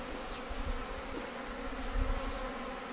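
Honeybees fly around their hives on a mild February day, making a soft, continuous buzzing drone with individual bees passing close now and then against a quiet outdoor background.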